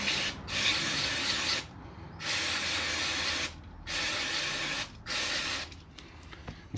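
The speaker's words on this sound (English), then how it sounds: "I'm just going to give it a quick blast with some brake cleaner to clean it up" Brake cleaner sprays onto a Kove 450 Rally motorcycle engine part in four close, loud hissing bursts of roughly one to one and a half seconds each, separated by short pauses, with no voices.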